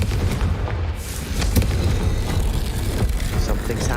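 A deep, rumbling blast from the Confringo fire spell in the Hogwarts Legacy video game, loud and close, with a booming low roar that lingers and stays dense for several seconds.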